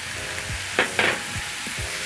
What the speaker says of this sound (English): Stir in the tomatoes. Let the tomatoes cook as you stir